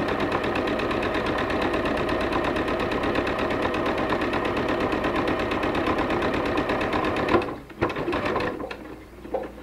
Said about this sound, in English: This is called chain stitching. There's no reason to cut your thread at this point.